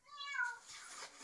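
A single close, soft kitten meow, a short rising-then-falling cry followed by quiet rustling.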